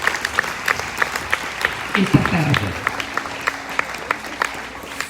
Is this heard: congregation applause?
yes